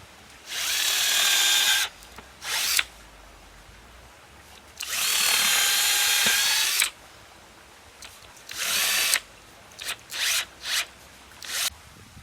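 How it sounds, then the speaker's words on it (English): A power drill bores pilot holes for wood screws in timber for a Japanese tea house boardwalk, with two long whining bursts and several shorter ones in between, loud and close, no talk. "I'm going to put 2 holes in each line, and that's where the pilot holes, just for the screws, just for the wood screws"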